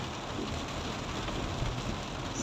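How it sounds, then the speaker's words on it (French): Heavy downpour drumming on a waterlogged road while driving, a dense, steady hiss of rain filling the whole clip, close and constant with no talk. "vous devez entendre la pluie là"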